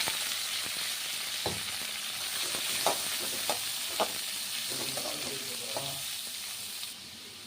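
Chopped onions hit hot oil and mustard seeds in a pan for tomato rice, giving a loud, continuous frying hiss with a few soft stirring taps over it.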